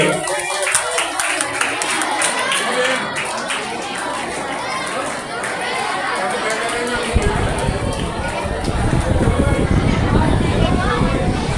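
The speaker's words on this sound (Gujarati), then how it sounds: "આપણે જોરદાર તાળીઓથી આ સન્માનને વધાવીશું. તાળીઓનો ગુંજરાવ આપણે ચાલુ જ રાખીશું જ્યાં સુધી સન્માન ચાલુ છે." An audience applauds during an honouring ceremony, and the clapping swells into a dense, steady roar in the second half while a speaker's voice continues over the crowd.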